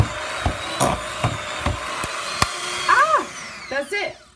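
Electric hand whisk mashing and whisking vegan potatoes in a bowl, running as a steady buzzing whine with scraping knocks against the bowl, then winding down unevenly near the end, close and loud.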